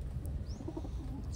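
A Taiwan-bred pigeon gives a soft, low coo, brief and fairly close, over faint background noise.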